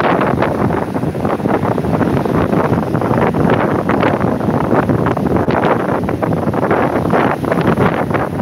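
Storm wind roars loudly and continuously across the microphone aboard a ship at sea, with turbulent gusts and crashing wave noise filling the whole stretch.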